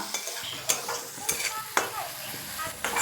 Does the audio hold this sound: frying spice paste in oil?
yes